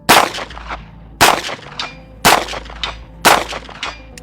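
A stocked 9mm gun fires four shots at a 120 target, evenly spaced about a second apart. Each loud, sharp report rings on with a metallic clang or echo, and no voices are heard.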